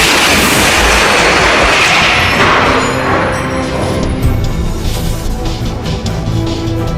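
A loud, sustained blast from an Iron Man suit's flight stabilizer in a film scene, a dense roaring burst that fills the clip from start to end and eases off only slightly toward the close.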